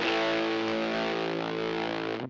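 Electric guitar played through a Little Bear Fuzz distortion pedal with the distortion turned up, one thick sustained fuzzy chord ringing loud and steady for about two seconds before cutting off abruptly.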